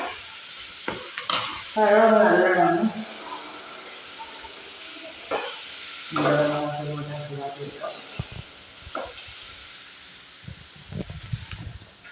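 Ripe banana sautéed and stirred in a pan for paal vazhakka: a moderate sizzle with scraping stirs that swell in two longer bursts, and a person talking at times.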